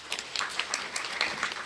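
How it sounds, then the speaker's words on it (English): Applause from a chamber of commerce business luncheon audience: a brief, moderately loud stretch of dense, overlapping hand claps. "So let's give them an applause and welcome them today."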